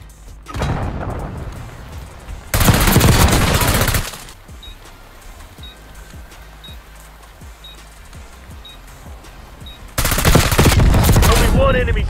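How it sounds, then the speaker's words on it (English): Automatic gunfire in Black Ops 6 video game, two loud sustained bursts separated by quieter stretches of rapid distant shots, with another burst near the end. "He started shooting."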